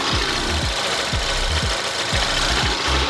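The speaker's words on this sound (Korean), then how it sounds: "휘발유 엔진을 탑재하고 있는 만큼 차량 엔진 소음도 조용하고 정숙한 차량이고요" A 2017 gasoline SUV engine idles with the hood open, a steady close mechanical hum with a regular low thump recurring about twice per second, no voices.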